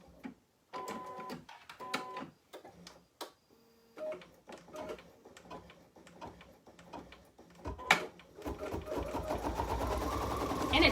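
An embroidery machine stitches a placement line onto stabilizer. It makes close rhythmic mechanical whirring and ticking in short runs with pauses, then settles into a steady louder run near the end.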